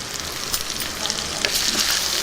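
A hot tempering of spices sizzles loudly as it is poured into mashed dal (mudda pappu). The frying crackle is close and continuous, with brief stirring sounds over the short span.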